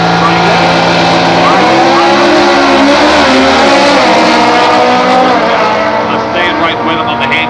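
A B Econo altered drag race car in competition eliminator runs loud and close, its engine roaring steadily through a handicap-start drag strip pass, with an announcer talking over the noise.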